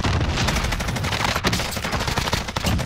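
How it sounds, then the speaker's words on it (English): Rapid bursts of video game gunfire crackle densely and loudly throughout, overlapping shots with no pause and no talking. "Taking fire."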